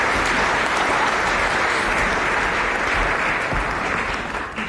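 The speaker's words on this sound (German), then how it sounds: "Einen großen Applaus nochmal," A lecture audience applauds steadily and loudly with dense clapping, fading slightly toward the end.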